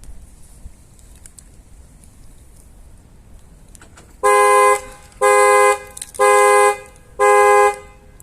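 A Prestige X1 alarm on a 2015 Ford Transit van blares four loud, evenly spaced electronic tones after a few seconds of quiet background hiss.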